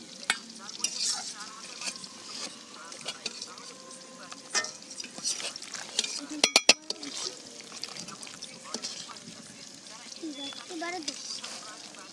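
Potatoes fry in a pan as a side for chicken, a soft sizzle with scattered scraping and clinks from stirring, while a person talks quietly over the cooking.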